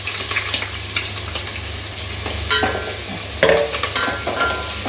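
Hot oil in a pan for chicken curry sizzles and fries steadily up close, with scraping stirring strokes and occasional louder crackles as onion cooks.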